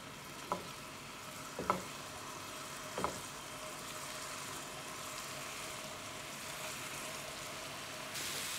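Kofta meatballs fry in about a tablespoon of hot oil in a pan, giving a soft, steady sizzle throughout, with a few brief knocks or stirring sounds early on.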